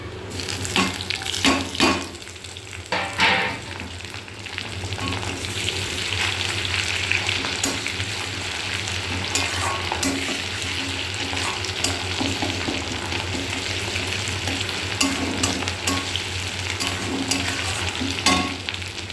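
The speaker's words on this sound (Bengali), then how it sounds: "এই যে পেঁয়াজটা ভাজা ভাজা হয়েই গেছে, এবার এই দুটো দিয়ে দেবো" Sustained sizzle of onions frying in a pan, with occasional stirring scrapes and a low steady hum underneath.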